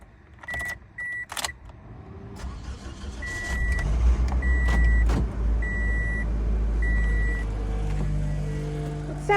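A Toyota Matrix engine with a newly fitted exhaust and muffler runs steadily, a low throaty drone that builds after a few seconds and holds, with faint clicks and beeps at the start.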